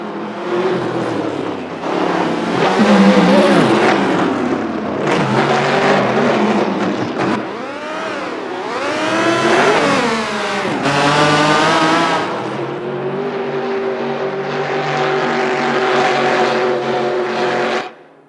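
A Nissan GT-R race car engine roars loud and close, revving up and down through repeated rising and falling sweeps, its pitch climbing through gears before settling into a sustained drone.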